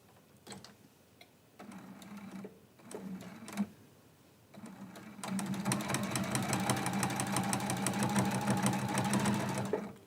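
Sewing machine stitching a quilt-as-you-go quilt block, with short start-stop bursts of stitching giving way to a steady, fast, continuous mechanical whir with rapid rhythmic ticking, close and fairly loud.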